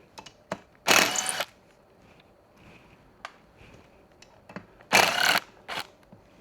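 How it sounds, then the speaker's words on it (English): An M5 Allen key backing out the mounting screws of a front basket on a fat-tyre electric tricycle, heard as two loud bursts of close ratcheting and scraping among small metallic clicks and taps. "I'm going to start by removing the basket mounting screws."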